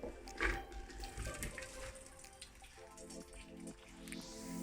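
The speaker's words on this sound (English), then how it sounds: "And now you can drain it." Water drains from freshly pressure-cooked chana dal, a light steady trickle and dripping that carries on without any talk.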